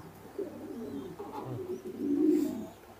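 A Mundiya fancy pigeon coos softly and close by, giving low, rolling coos that swell louder near the end over faint background noise, with no voices.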